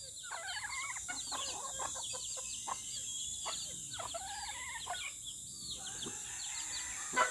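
A tiny bantam-sized mother hen clucks repeatedly in short, uneven bursts, fairly close and moderately quiet, over a faint outdoor background.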